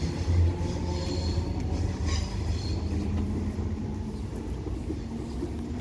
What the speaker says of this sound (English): Departing now is 318251 ScotRail service to Argyle.